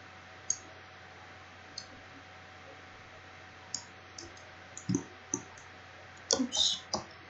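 A computer mouse clicks while a 3D chair is modelled, sparse light clicks spaced through the stretch, then a denser cluster of quick clicks near the end, close and fairly faint over a quiet background.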